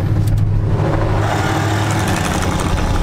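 A drag car holds full throttle through a burnout, its engine roaring loud and steady at close range for the whole stretch without letting up.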